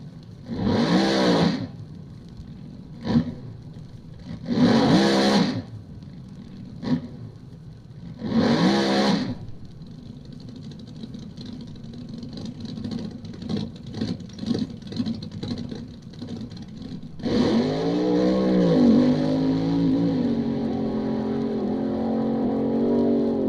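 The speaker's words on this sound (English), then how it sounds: "Let's hear what a funny car sounds like." A funny car drag racing run opens with three short, loud engine bursts separated by brief pauses and crackly idle. It then settles into a rough rumble before a long, sustained roar as the car launches.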